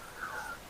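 A single short bird call rings out in a rural village in the morning, sounding a little distant against a soft background.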